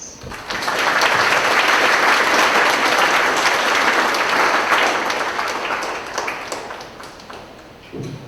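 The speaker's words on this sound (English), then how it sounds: "let's give him a round of applause" A large audience at an entertainment event claps in sustained, loud applause that swells quickly, holds for several seconds, then gradually thins out.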